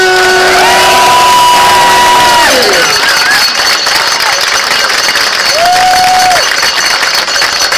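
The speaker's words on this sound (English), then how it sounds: "Ladies and gentlemen, a massive round of applause," A large outdoor crowd at a cycling awards ceremony claps and cheers steadily, with whoops rising through dense applause and a couple of brief whistle-like tones sounding above it.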